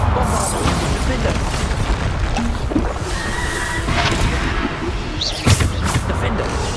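Bombarda spell explosions in the Hogwarts Legacy video game go off as repeated booming blasts in a dense, steady wash of battle noise, with one sharper burst near the end and voices running underneath.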